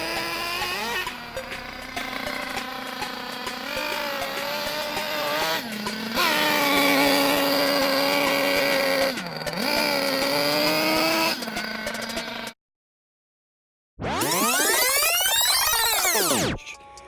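A nitro RC car engine running rich buzzes loudly and steadily, its pitch dipping now and then. After a short silence it revs up in a rising, high-pitched sweep.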